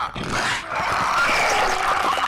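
Clicker creature from the video game The Last of Us, a harsh rasping, gurgling growl with rapid clicking texture, loud and close, continuous for about two seconds.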